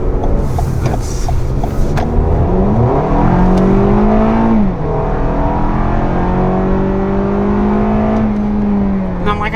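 A 2019 Toyota RAV4 XLE engine accelerates, heard from inside as a loud, rising engine drone with a shift partway through, then climbing again.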